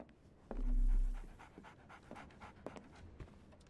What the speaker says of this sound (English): Barnes has a dog now. Who's a good boy?